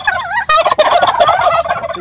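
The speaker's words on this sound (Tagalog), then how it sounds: "itong mga malalaking pabo na kagaya nito, itong mga bugoy-bugoy na ito" Large turkeys gobble loudly and close by in the rainy season, a rapid warbling burst followed by overlapping gobbles.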